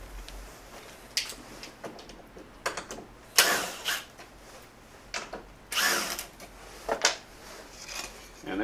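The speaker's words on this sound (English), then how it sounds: "I may just have to drill them out a little bit." Power drill boring countersinks for screw heads into a plywood speaker woofer ring, heard as several short bursts of whirring with pauses and tool handling between them.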